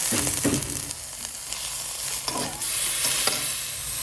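Pork stir-fried over high heat in a hot pan for Thai basil stir-fry, a constant loud sizzle broken by repeated knocks and scrapes of stirring, with no voices.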